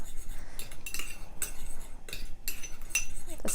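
A spoon stirs salt and chili powder together in a bowl for homemade baked tortilla chips, giving a steady run of close scraping and clinking against the bowl with no talking.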